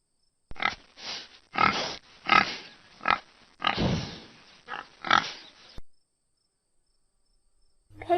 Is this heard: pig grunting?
yes